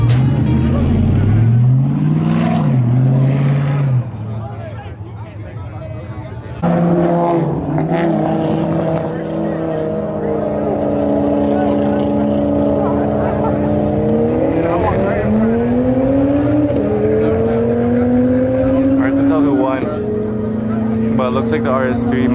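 An Audi RS3 accelerates hard in a street run among M4s and a Supra. Loud engine tones climb steeply through gears and a car roars past nearby, with people talking over it.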